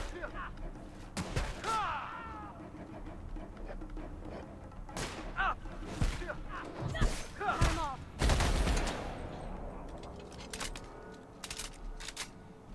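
Gunfire from the video game The Outer Worlds comes in several sharp bursts and single shots spread across the stretch, loud and punchy, with in-game voices and clatter between them.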